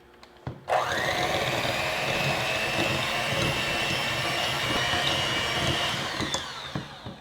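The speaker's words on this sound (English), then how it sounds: "now we are going to cream these together with a hand mixer or a stand mixer" A hand or stand mixer creams packed brown sugar for pumpkin cookie dough, a steady loud motor whir running continuously after a brief knock at the start, with a few clicks and bumps near the end.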